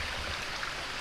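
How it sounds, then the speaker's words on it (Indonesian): A river flows beside a mountain trail on Gunung Doro Dindi in Bima, West Nusa Tenggara, a steady broad rushing of water heard nearby without talk. "Air yang tadinya sayup makin mengeras."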